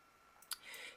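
A single sharp mouse click lands near the middle, fairly close and crisp, followed by a faint hiss of background noise with no talking.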